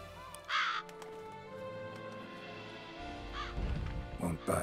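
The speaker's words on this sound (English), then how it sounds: "That's a lot of crows" Crows cawing in the video game The Witcher 3: a flock of harsh caws in short bursts, some near and some farther off, over a low ambient rumble.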